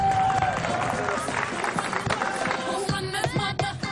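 A studio audience on a lively Georgian entertainment show applauds loudly and steadily, a dense wash of clapping with tonal music or crowd noise running underneath, thinning slightly toward the end.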